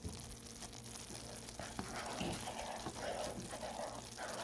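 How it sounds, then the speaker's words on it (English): Maple walnut fudge mixture boiling vigorously in a saucepan gives a soft, steady bubbling hiss at close range, low in level, with no talk. "Now it's boiling vigorously on the sides and into the middle."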